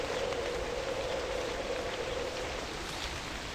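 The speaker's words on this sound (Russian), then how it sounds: "Блин, дождь, зараза, сильный." Heavy rain in the game Novus Inceptio hisses steadily and loudly throughout, a dense unbroken wash of drops with no talking.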